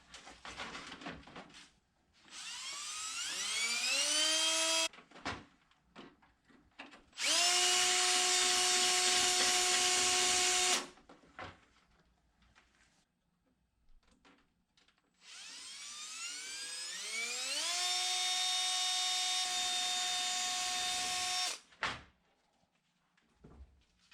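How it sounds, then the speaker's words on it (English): Power drill boring holes for the plastic mounting tabs of a carbon fiber grille on a 2015 Honda Fit; three sustained whining runs where the pitch climbs as the motor spins up, separated by quiet pauses. "Now I'm going to do the risky part and drill the holes to pop these 2 tabs into place."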